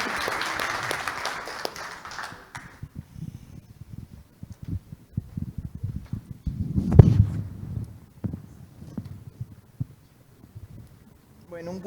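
An audience claps in a dense burst of applause at a formal commemorative event, which fades within a few seconds and leaves a quiet room with scattered low thumps.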